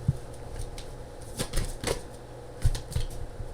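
A deck of tarot cards being shuffled by hand, soft papery riffles and slaps in irregular bursts close by, with low background hum.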